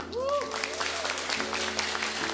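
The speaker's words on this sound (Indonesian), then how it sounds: "Boleh beri tepuk tangannya." A church audience at a GKI choir and psalm concert claps steadily in thanks. A voice with gliding, sung or spoken tones rises over the patter early on.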